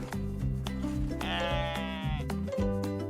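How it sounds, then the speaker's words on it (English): A goat bleats once, a wavering nasal cry rising clearly over a bouncy children's music backing that plays throughout. "It's a goat."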